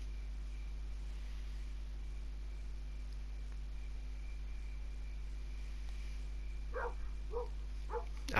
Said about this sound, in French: Arrête d'aboyer, viens.